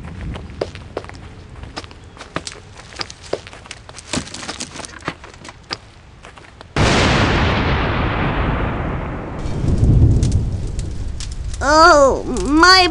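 Thunder from a lightning storm rolls in as a sudden loud crack followed by a long fading rumble, with scattered clicks and steps before it and chirping sounds near the end.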